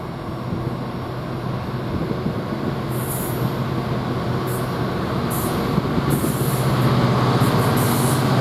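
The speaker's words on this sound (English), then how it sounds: "Now we are going to get this freight train, which is from Felixstowe north to Garston, which is the Freightliner, passing at 11:40." A Class 66 diesel hauling a Freightliner container train from Felixstowe to Garston rolls through Shenfield station with a steady, loud rumble and wheel noise. Faint high squeals break in now and then, with no voices.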